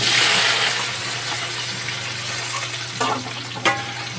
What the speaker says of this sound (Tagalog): nagpainit na ako ng mantika ha. Unahin ko yung squid ball at saka kikiam ha